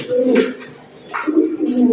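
Sick pigeons cooing close by, two low throaty coos with soft rustling between them.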